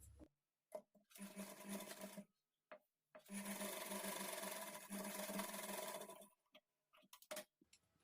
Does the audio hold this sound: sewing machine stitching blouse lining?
yes